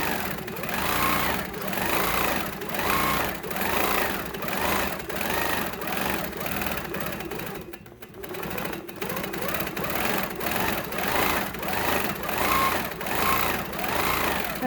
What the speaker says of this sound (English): Now we're going to go straight line stitching.